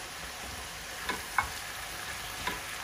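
Food fried in a home kitchen pan after pepper and salt are added, giving a quiet, even sizzle with a few light taps and scrapes from a utensil, heard close with no talking.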